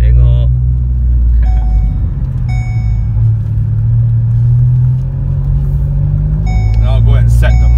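The rebuilt engine of a VW Golf Mk7 R idles loudly and steadily close by, a constant deep hum with slight rises in pitch, while people talk over it.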